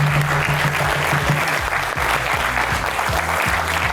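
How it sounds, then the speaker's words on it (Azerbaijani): A theatre audience at a comedy show claps for the team in steady, dense applause that runs the whole time, with faint low musical tones underneath. "Gəlin komandanı alqışlayaq."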